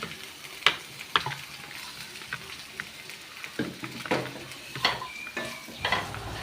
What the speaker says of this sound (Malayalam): ഇനി നമുക്കിതിലേക്ക് ചക്കക്കുരു ഇടാം